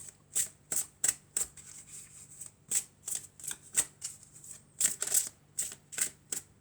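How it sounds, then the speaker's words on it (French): Angel oracle cards being shuffled by hand, a series of crisp, close riffling bursts in an uneven rhythm with short pauses between them, no voice. "on va prendre des cartes des anges de l'amour"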